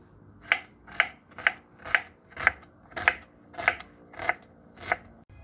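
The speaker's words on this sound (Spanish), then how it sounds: "Voy a picar todas las cebollas" Onions being chopped with a knife on a cutting board for a basic sauce: nine evenly spaced crisp chops at a slow, steady rhythm, close and clear, with no talk.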